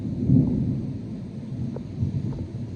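Thunder rolls through a thunderstorm, a low, continuous rumble with a couple of swelling peaks, broad and fairly loud, with no voices over it.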